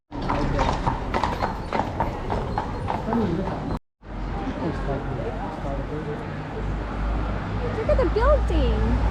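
Horse hooves clip-clop steadily on a Vienna street, a close, loud, regular clatter under a tourist's voice and street noise, with a short break partway through.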